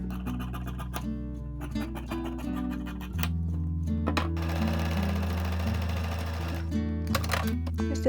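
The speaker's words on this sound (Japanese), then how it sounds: "ちょっと仮止めミシンで押さえておきます" Sewing machine stitching a temporary tack seam on a sweater side tuck during a remake, a steady mechanical whir with rhythmic ticking, close and fairly loud, heavier from about three seconds on.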